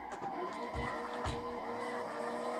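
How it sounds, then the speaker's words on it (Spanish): In Gran Turismo 6, a car spins out with engine drone and tire squeal, punctuated by two low thumps while the skid carries on steadily throughout. "Vale, yo aquí hago un trompo."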